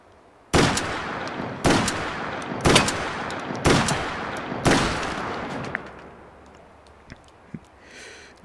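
Five heavy shotgun blasts from a sawed-off Sjogren in Battlefield 1, fired at an even pace about one second apart, each loud and close with a short decaying tail, followed by quieter clicks of handling and reloading.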